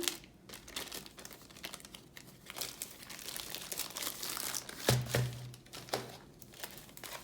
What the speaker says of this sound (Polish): On jest jeszcze zapakowane w taką folię taśmową.